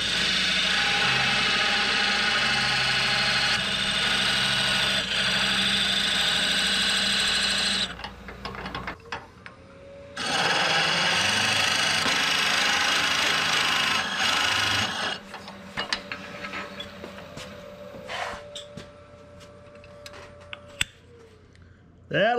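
A 2-inch Forstner bit bores a hole in wood for a wooden cigar ashtray, making two long, steady grinding passes separated by a short pause. Quieter handling clicks and scrapes follow.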